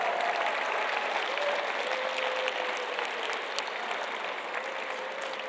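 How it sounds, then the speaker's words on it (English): An audience at a university commencement applauds for graduates in a dense, steady wash of clapping that carries evenly through the hall without letting up. "let's give all of these people who have supported you a big round of applause"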